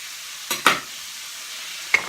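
Onions and garlic sizzle softly in a pan, with three short scraping stirs of a utensil standing out over the quiet frying hiss.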